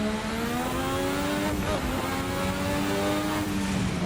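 A turbocharged 1986 Formula RSS F1 car races in a video game, and its engine gives a loud, high, buzzing drone. The pitch dips briefly in the middle as it shifts gears, then climbs again, and it runs continuously for the whole stretch.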